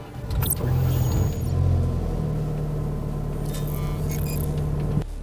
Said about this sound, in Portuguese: Ligar o carro.